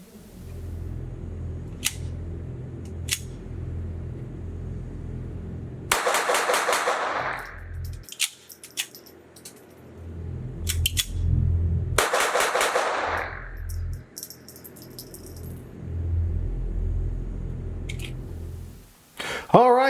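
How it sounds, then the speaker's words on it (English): Bursts of rapid rimfire shots from a Smith & Wesson M&P 22 full-size pistol at a shooting range, two loud volleys of several quick reports each. Quieter handling and magazine-change clatter fall between them, with talk under parts of the clip. "you have to shoot really fast, change magazines, insert a new mag, and get it back in action"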